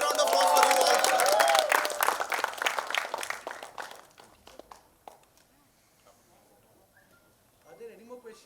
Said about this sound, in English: huge round of applause for you all